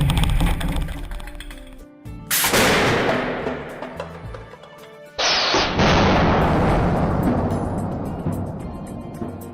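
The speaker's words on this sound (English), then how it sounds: "the impact of a 4-kilogram piece of hardwood, travelling at speeds of up to 156 kilometres per hour" A 4-kilogram piece of hardwood fired at about 156 km/h strikes a security screen in an impact test, giving two loud, sharp blasts a few seconds apart, each followed by a long roaring decay.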